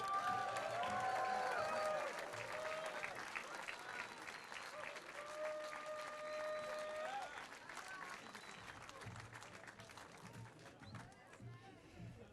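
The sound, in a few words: rally crowd cheering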